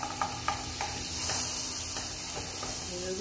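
Shrimps cook in butter in a pan with a steady frying sizzle and hiss, punctuated by a few light clicks of stirring early on, moderately quiet and close.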